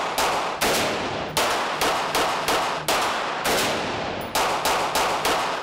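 Gunfire at a shooting range, heard as a rapid run of loud, close shots about half a second apart, each with a sharp crack and a ringing decay that overlaps the next.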